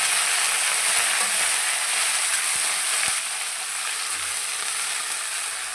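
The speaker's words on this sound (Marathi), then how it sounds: "लसण छान करपला आपण भाजी टाकून." Garlic and fenugreek greens fry in a hot pan for a dhaba-style dish, giving a close, dense, steady sizzle with a couple of faint taps from stirring and no speech.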